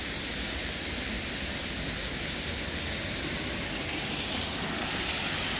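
A thin-streamed waterfall in the Myojeoksa valley gives a continuous, close, full rushing hiss of falling water. It is steady and unbroken throughout, with no talk.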